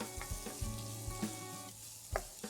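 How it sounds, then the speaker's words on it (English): Cashew nuts and cross-cut capsicum sautéed with paste in a pan for veg Kolhapuri, a soft sizzle under a steady low tone, with a few brief scraping stirs scattered through. "Saute all these ingredients for 2 minutes."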